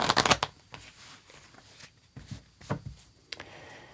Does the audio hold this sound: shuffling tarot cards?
yes